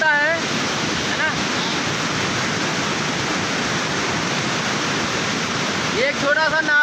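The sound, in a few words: rainwater rushing through a flooded drain after heavy rain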